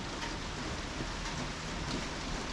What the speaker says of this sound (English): icy rain.